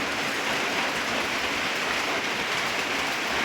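Steady light drizzle, a dense even hiss of rain falling outdoors, constant and fairly loud throughout, with no voices.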